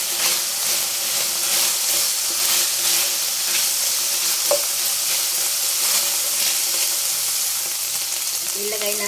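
Oil sizzling in a cooking pan after boiled meat is added: a constant, crackling frying hiss, evenly loud and close, with small pops and a faint clink now and then.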